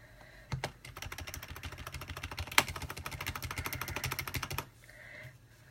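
Rapid typing on a computer keyboard while entering text: a steady stream of close, crisp key clicks for about four seconds, with a single louder keystroke midway, then quiet.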